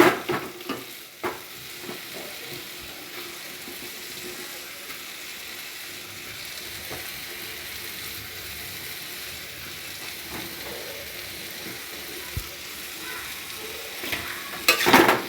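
Radish mixed with spices fries in a pan while being stirred, a steady close sizzle with occasional scraping and clinks of the utensil against the pan throughout.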